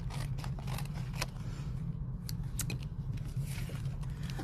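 Scissors snip through card stock bird images for a card kit, a steady run of small crisp cuts close by with no talking.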